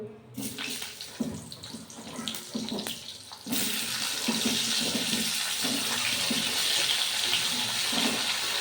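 Pointed gourd pieces go into hot cooking oil in a home kitchen. Faint clatter gives way, about midway, to a loud, steady, hissing sizzle that continues to the end.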